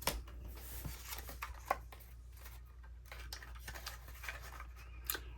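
Scissors snip through packing paper in a quiet room, a series of short, close crisp cuts with small rustles between them while an envelope is made.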